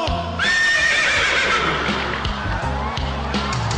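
A person imitates a horse's neigh, a loud whinnying cry with a rising, wavering pitch, followed by low rhythmic sounds.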